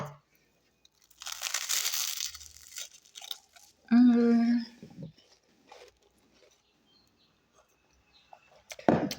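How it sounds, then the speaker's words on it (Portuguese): Bites and chewing on crunchy toasted bread made from two-day-old loaf, a few crisp crackly crunches near the mic between stretches of talk. "E bora ver como ficou essa torradinha, se ficou crocante."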